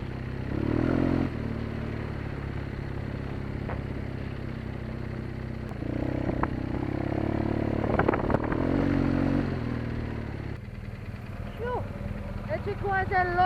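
GS motorcycle riding in ruts on a loose dirt track, a steady engine drone with clattering and scraping over rough ground, heard under ongoing talk from the rider.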